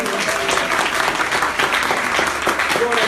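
A church congregation applauds together at a baptism service, a dense burst of close, loud clapping that runs throughout with a few voices calling out over it.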